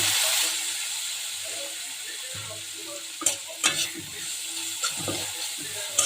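Dried shrimp drop into hot oil in a pan and sizzle steadily, with a few sharp stirring clinks and scrapes toward the end and no voices.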